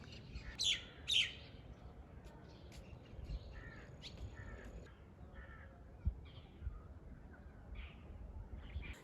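Birds perched on electric wires call outdoors, with a few loud caws and chirps near the start and scattered fainter tweets after, over quiet ambient background.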